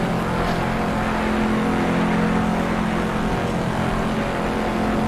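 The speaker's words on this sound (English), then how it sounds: "There's no better sounding V8 forced induction car" A 2019 Chevrolet Corvette ZR1 with a forced-induction V8, driven in Assetto Corsa, holds a loud, continuous engine roar at high speed, steady and unbroken with no voices over it.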